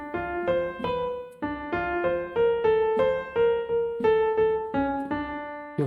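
Keyboard plays the closing phrase of a theme as a slow melody of sustained notes in steady phrases, played alone and close with no talking.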